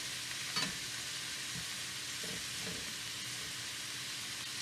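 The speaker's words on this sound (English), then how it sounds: "And we're going to add some brown sugar to that. A good heaping tablespoon of brown sugar. And let that just saute there." Italian sausage with a heaping tablespoon of brown sugar sautéing in a pan, a faint, steady sizzle with a few soft stirring knocks.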